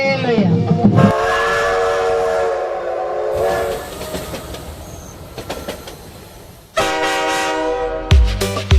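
A train whistle sound effect sounds loud, drawn-out tonal blasts over rumbling rail noise, with one long sustained whistle, a noisy chugging stretch, and then another sharp whistle burst near the end.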